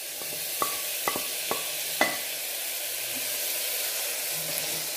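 Onions and chopped tomato sauté in a pan for a vegetable kurma, a soft, steady sizzle broken by a few sharp clinks of a spoon scraping and stirring early on, then a quieter, even frying hiss.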